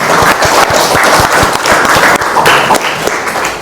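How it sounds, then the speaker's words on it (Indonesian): Classroom applause for a student who finished first, a burst of sharp, fairly quick hand claps from a group of pupils, close and loud and continuing throughout. "silakan beri tepuk tangan kepada Gena"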